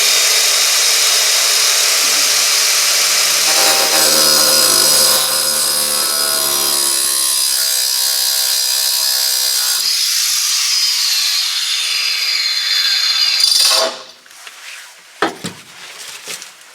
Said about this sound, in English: I'm just gonna take my grinder, I'm gonna cut a slot